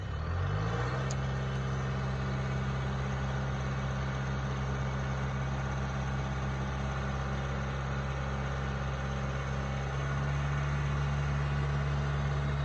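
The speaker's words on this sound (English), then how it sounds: "he's uncradling the boom mower right now" A tractor fitted with a boom mower runs steadily at a roadside, its engine droning in a low continuous rumble with a faint higher whine, no talk over it.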